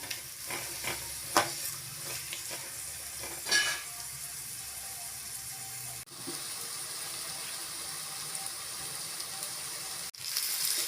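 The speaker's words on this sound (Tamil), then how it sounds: "மூணு வெங்காயம் பொடியாக கட் பண்ணி எடுத்துருக்கேன் சேர்த்துக்கலாம் நல்லா வதக்கி விட்டுக்கலாங்க" Three finely chopped onions sautéing in a pan for a chicken gravy give a soft, steady sizzle, with occasional stirring knocks and scrapes near the start.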